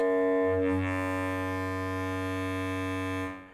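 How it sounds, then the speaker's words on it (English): A steady, buzzy Make Noise synthesizer tone with bright harmonics sustains for a few seconds, shifting timbre slightly near the start as it moves from sine to a spiky waveform, before fading out. "from the sine into a, kind of a spiky wave that sounds like this."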